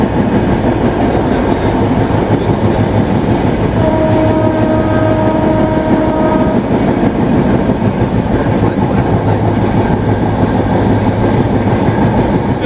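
The Rupsha Express intercity train rolls through Fultala railway station in Khulna without stopping, heard from inside as a loud continuous rumble with rail clatter and a faint drawn-out horn tone partway through.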